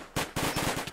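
Rapid gunfire in a Minecraft zombie apocalypse game: a quiet lead-in, then a sharp burst of repeated shots in quick succession, loud and close, with no talk.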